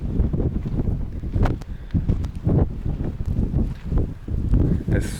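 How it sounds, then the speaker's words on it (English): Strong wind buffets the microphone beside Lake Qarun in Egypt, giving heavy, low, gusting rumbles that surge and ease in rapid, uneven waves. "It's so windy here."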